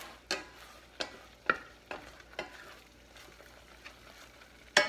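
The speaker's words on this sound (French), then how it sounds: "On remue tout le temps là, pour pas que ça colle." A spoon stirs a thickening sauce with mushrooms in a pan, producing regular soft scraping strokes about once a second over a low bubbling simmer, close and fairly quiet, with no talking.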